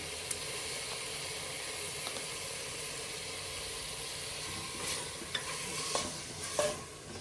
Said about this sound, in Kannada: ಈರುಳ್ಳಿ ಟೊಮೆಟೊ ಜೊತೆಗೆ ಫ್ರೈ ಮಾಡಿಕೊಂಡ್ರೆ ಟೇಸ್ಟು ತುಂಬ ಚೆನ್ನಾಗಿ ಕೊಡುತ್ತೆ.